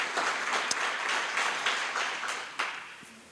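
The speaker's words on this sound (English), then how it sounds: "want to give them another round of applause." Audience applause at a Western North Carolina Legislative Health Caucus event, a moderate room of clapping hands that gradually thins and fades toward the end.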